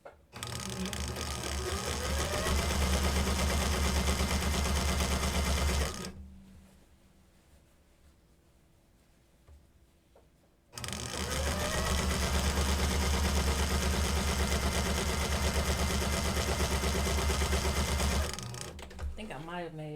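A sewing machine stitching fabric while men's pants are turned into high-waisted women's pants, set to a longer stitch. It runs in a loud, close, rapid whir for several seconds, pauses into near quiet, then starts again for another long run.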